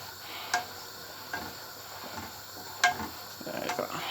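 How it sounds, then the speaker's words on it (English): Chopped tomatoes with mixed herbs and garlic are stirred in a sizzling pan, a faint steady hiss broken by a few light scrapes and taps, with no talking. "Okay, give it a good stir."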